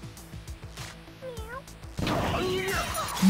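In a video game, a cat bomb lets out a few short cartoonish meows, followed by a sudden loud burst of explosive noise, with players talking excitedly around it.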